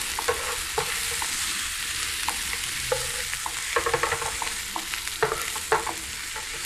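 Onions sauté in a pan for a pea stew, a close steady sizzle broken by frequent scraping stirs and spoon clicks that cluster toward the end.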